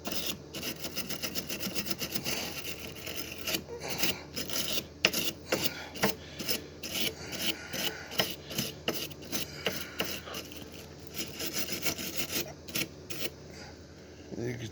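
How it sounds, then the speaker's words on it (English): A wire brush scrubs welding slag off the tack welds on a 1964 Chevy C10 pickup, close and uneven, in irregular bursts of rasping strokes, with a voice speaking at times. "Try cleaning up most of the slag."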